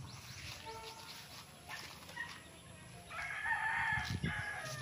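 A fighting rooster crows on a farm lot in Pila, Laguna, a moderately distant call that swells in the second half over faint background noise and other fowl sounds.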